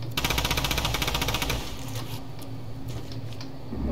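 Rapid-fire SMG bursts in Fortnite, a dense, loud stream of quick shots for the first second and a half, then fading into softer game noise and scattered pops.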